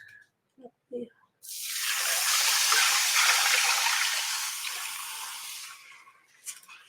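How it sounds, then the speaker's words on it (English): Water poured into a cooking pot of zesty beef and rice, a loud steady rushing pour lasting several seconds after a few short clatters, then tapering off. "I'll add some water."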